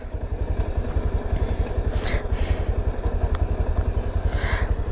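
A motorcycle riding across the Kalasa hanging bridge in Chikmagalur, its engine thumping in a rapid, even pulse with rattling clatter from the bridge deck, close and steady throughout.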